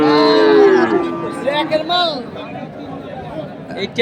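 Cattle moo loudly and close by at a Qurbani sacrificial bull market in Ambari, Dinajpur, with one long bellow followed by shorter lowing calls over a low background murmur of a crowd.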